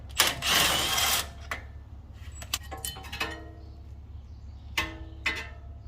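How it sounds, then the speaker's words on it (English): An impact gun loosening rusty brake bolts on a Honda Pilot, with one loud buzzing burst up front followed by several short rattling hits and clanks of tools, close by over a low hum, no talking. "this is the best when you use the impact gun to get the work job easier and faster"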